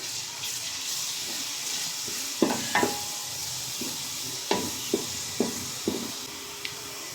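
Garlic, onion, green chili and chopped carrot frying in oil in a pot make a quiet, steady sizzle, punctuated by a series of sharp stirring clacks of a utensil against the pot.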